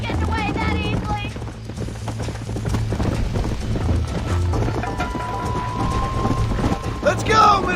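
A horse gallops in Red Dead Redemption on Xbox One, its steady clip-clop of hooves running throughout over a rumbling, rain-like backdrop with a rising tone near the end.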